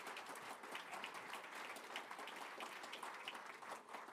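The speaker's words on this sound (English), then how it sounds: "You can feel free to give them a round of applause." Audience applause at an AMD Financial Analyst Day event honoring executives on stage, dense steady clapping from a large crowd, fairly distant and soft, continuing evenly throughout.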